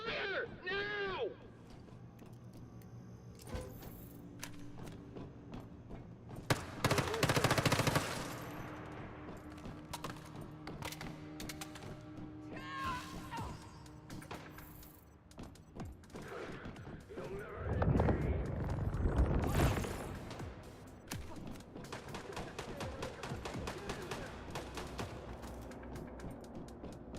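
Bursts of gunfire and rapid volleys from a battle after an order to open fire, mixed with frequent shouting voices, scuffling and heavier clustered blasts near the middle and later on.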